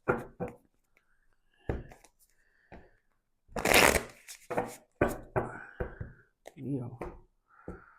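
Tarot cards are shuffled and riffled by hand in a few loud, rustling bursts, with scattered soft clicks and quiet spoken words between them.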